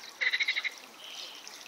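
Frogs croak in a quick run of about eight loud, evenly spaced calls, then fall to a faint outdoor background with hints of water.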